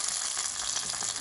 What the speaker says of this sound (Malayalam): ഇതിലേക്ക് നമുക്ക് വറവിട്ടത് ഒഴിച്ചു കൊടുക്കാം.